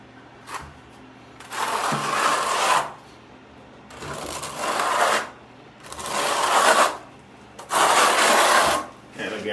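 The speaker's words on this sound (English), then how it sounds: "trying to hold your trowel at a 45-degree angle as much as possible" A trowel spreads thinset mortar across a tile shower wall in four long, loud scraping strokes, each lasting about a second or more, separated by short pauses.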